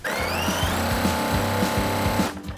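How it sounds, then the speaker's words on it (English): A sewing machine stitches a quarter-inch quilt seam, running steadily, its needle thumping in a fast, even rhythm with a whirring motor, then stops. "next we'll bring these to our sewing machine and stitch a 1/4 inch seam allowance."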